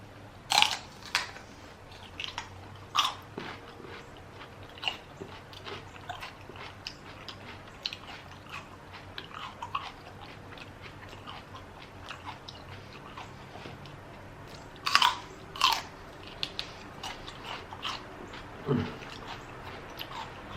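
Buffalo Wild Wings chicken wings being eaten up close, with scattered wet bites and steady chewing, smacking and occasional crunches over a quiet background, and no talking.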